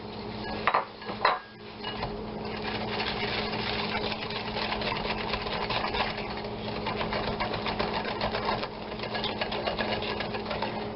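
Egg yolks whisked with sugar in a bowl for a raspberry brioche pudding, a steady rapid rattling of whisk against the bowl running continuously at close range, with a couple of louder knocks near the start and no talking.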